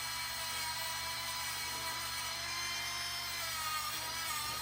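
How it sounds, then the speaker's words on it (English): A small Dremel rotary tool spins a soft wire wheel against the mating surface of a brake hose on a 2007-2012 Dodge Nitro, giving a steady, even high-pitched whir that runs throughout without a break. "Little Dremel wire wheel, soft brush."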